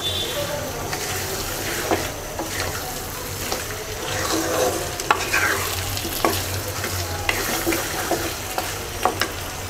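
Hog plum sautéing in a pan for pickle gives a close, steady sizzle with repeated scraping stir strokes and small pops, with no voices.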